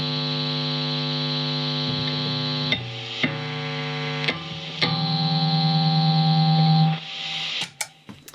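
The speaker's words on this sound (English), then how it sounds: "Yep, fair bits of noise, but that's to be expected as well with single coil pickups." Single coil pickups on an Eko Stratocaster through overdrive give a loud sustained mains hum with harmonics, cut by sharp switching clicks, rising to a buzzy distorted drone before dropping into short pops at the end.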